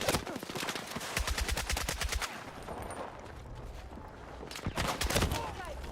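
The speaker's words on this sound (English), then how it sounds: "I'm getting sniped too from way over there." Video game gunfire in a long-range sniper fight, with rapid bursts of sharp shots crackling at the start, a quieter lull, then another tight cluster of cracks near the end, fairly faint overall.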